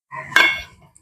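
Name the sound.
spoon stirring vinegar into milk in a bowl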